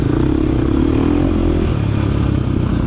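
A 2023 KTM 350 XCW dirt bike engine drones loud and close, revving steadily under a slipping, feathered clutch in tight wooded hare scramble trail riding, with brief clattering from the chassis.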